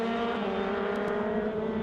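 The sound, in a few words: Toyota Racing Series race car downshifting into corner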